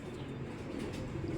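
Pigeons coo softly and low in a brief, faint burst, muffled against a dull background hum, with no speech.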